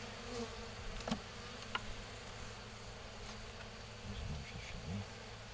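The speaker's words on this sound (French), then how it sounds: "Il y a pas mal d'abeilles." Honeybees hum faintly around a hive, a low continuous buzz with a few individual bees droning closer at moments.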